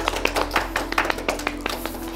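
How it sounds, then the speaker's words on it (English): A small group of wedding guests at a Dublin registry office ceremony claps for the couple. The sparse, uneven claps sound close and fairly light over a steady low hum. "So I think that deserves a round of applause for the couple."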